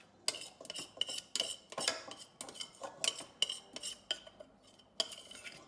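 Melted chocolate being stirred into brownie batter in a bowl with metal utensils, giving a run of close, irregular clinks and scrapes against the bowl with short pauses in between.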